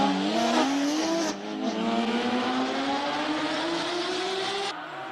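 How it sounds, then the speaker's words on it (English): A Porsche GT3 race car pulling off a start line, its engine rising in pitch through the gears with a loud, close, climbing howl and brief shifts, with no talk. "GT3 about to head off the start line."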